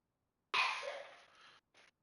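A single close, sharp sneeze bursts out of silence, tails off over about a second, and is followed by a brief faint breathy sound.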